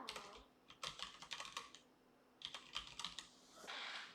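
An email address being typed on a computer keyboard, quiet rapid bursts of key clicks in two runs separated by a short pause, close and soft, with no talking.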